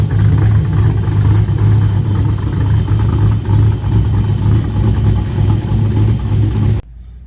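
A Nissan car engine fitted with a CD009 transmission roars loudly and steadily at high revs for several seconds, close by, then cuts off abruptly.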